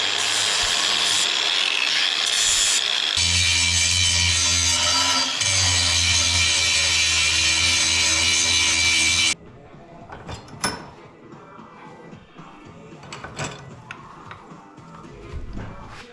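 A flap disc grinds on a part for a Coleman CT100U motorbike, a loud, harsh, continuous abrasive roar for about nine seconds that cuts off abruptly, leaving quieter scattered clanks and handling noises.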